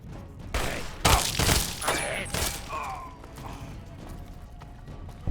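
Video-game gunfire in Fallout 3 comes as a cluster of loud, sharp bursts over the first few seconds, then tails off. Voices talk around the shots.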